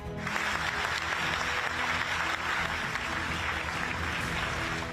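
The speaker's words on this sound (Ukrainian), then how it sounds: "Вже екс генсека, який очолював альянс 10 років, колеги проводжають оплесками." Sustained dense applause from colleagues at a NATO ceremony seeing off the departing Secretary General, who led the alliance for ten years, a steady full wash of clapping lasting throughout.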